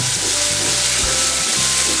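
Pea paste hits hot oil in a kadai where cumin seeds have turned red. A brief, steady sizzle of frying rises on its own.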